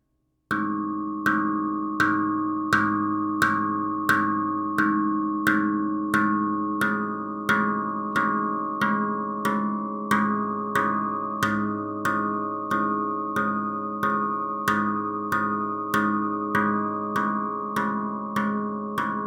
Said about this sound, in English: what you're hearing are the overtones that are built into the pan